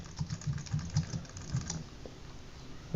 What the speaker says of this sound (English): If I type something